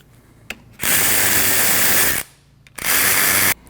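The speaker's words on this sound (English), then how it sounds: "Then we're going to remove our 2 14mm bolts." Two long, loud bursts from a power tool, most likely an impact gun, backing out 14mm rear brake caliper bolts on a 2003-2008 Subaru Forester, with a short click before each burst and a brief pause between them.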